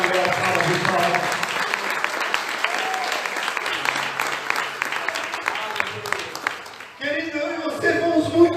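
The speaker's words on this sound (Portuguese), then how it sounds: "pode dar uma salva de palmas." Applause during a church service, a congregation clapping loudly and steadily, thinning out toward the end as a voice begins speaking again.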